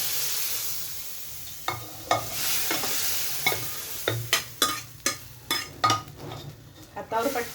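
Hot spice tempering poured into dal in a pressure cooker for dal pakwan sizzles and crackles, with repeated clinks and scrapes of a metal utensil against the pot, close and moderately loud.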